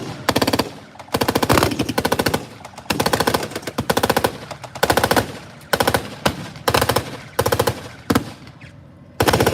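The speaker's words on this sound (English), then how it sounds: "MG-42 and MG-34 are certainly not something the Canadians want to be caught in the open against." MG-42 and MG-34 machine guns firing at a WWII tank-weekend battle reenactment, loud rapid bursts one after another with brief gaps between them, close and sharp, with no voices.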